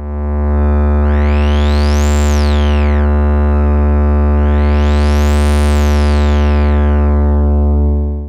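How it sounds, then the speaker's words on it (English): A loud, clean sine tone from the self-oscillating filter of an Erica Synths Black Dual VCF holds steady while a bright overtone sweeps up and down twice, with no input sound underneath. "self-oscillation produces nice and clean sine wave"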